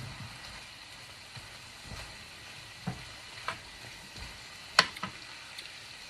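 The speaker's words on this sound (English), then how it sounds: "It's stir fry, so you don't want the veggies to cook too much." Shrimp stir fry for Pad Krapow with vegetables sizzling in the pan, a steady soft crackle broken by a few sharper clinks and scrapes from stirring, including one loud knock near the end; no voices.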